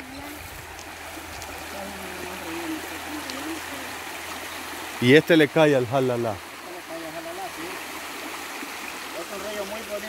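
A river flows steadily as a continuous broadband rush of water, with a brief burst of voices in the middle of the clip speaking over the stream.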